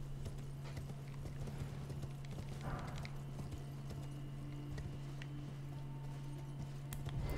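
Horse hooves clip-clop steadily across Elden Ring gameplay, a close, even rhythm of repeated hoofbeats over a constant low game hum, with no talk.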